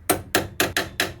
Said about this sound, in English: Give it a little whack with a hammer.